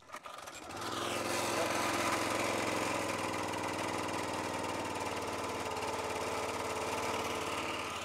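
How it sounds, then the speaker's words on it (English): A small pull-start engine starts up after a few sputters and settles into a steady, loud, continuous idle with slight throttle, running alone without talk. "let's see if she'll start on the first pull. Let's give it just a little bit of throttle"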